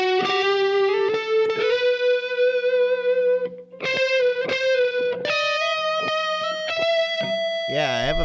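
Two loud electric guitars play sustained distorted lead tones with chorus and echo effects during a live practice session, ringing notes held and bent with sharp picked attacks, close and full, ending in a warbling swell.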